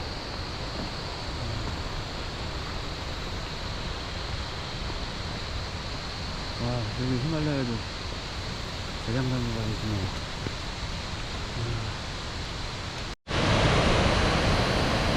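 A steady, loud rushing roar of a snowmelt waterfall mixed with cicadas on a mountain trail, with someone speaking briefly over it and a sudden louder burst near the end.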